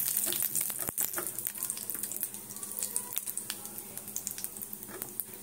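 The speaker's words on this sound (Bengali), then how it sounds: "দেখো তেল বসিয়েছি, এবারে তেজপাতা দিচ্ছি, একটা তেজপাতা দেবো, আর দেবো গোটা গরম মশলা।" Soft crackling sizzle of a bay leaf and whole garam masala dropped into hot oil in a pan, faint and close, with light scattered pops and no talking.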